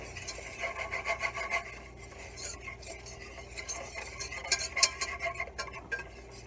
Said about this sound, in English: I'm going to add 1/3 of a cup of flour and whisk that in.